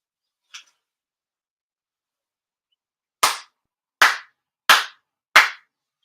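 Four sharp ritual hand claps at a spring memorial grand ceremony, evenly spaced and loud against silence, with a faint short tick before them.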